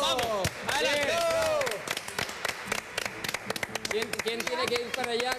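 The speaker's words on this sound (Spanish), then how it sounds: "Le damos un aplauso" A television studio audience claps in short, sharp bursts while a host talks excitedly and other voices call out over the applause.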